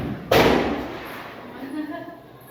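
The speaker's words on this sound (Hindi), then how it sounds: "यहाँ से पटाखे के मजे ले रहे हैं" A firecracker bursts during a family Diwali celebration at home, one sharp loud bang that decays into a soft tail, followed by faint background sounds.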